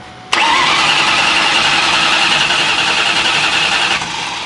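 A built Mustang GT V8 is cranked by its starter without firing, a loud, steady whirring drone held for several seconds close by and then cutting off abruptly.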